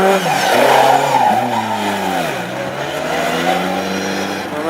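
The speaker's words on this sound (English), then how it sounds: "There's a sign-off flick of the wheel by 25 Trevor Cusack as well." A classic hot rod at a Tipperary race meeting squeals its tyres on a flick of the wheel, a loud, sustained engine roar with wavering pitch and tyre screech lasting the whole stretch.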